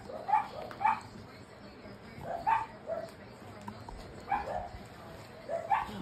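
Young puppies give short, separate barks and yips in a home, with quieter whimpers between them. A washing machine hums in the background.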